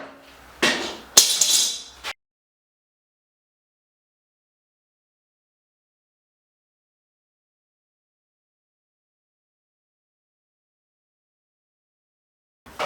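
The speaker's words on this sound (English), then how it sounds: "it's time to take these clamps off" Clamps come off a freshly built structure with a few close metallic clanks and knocks in the first two seconds, followed by long silence and one faint knock at the end.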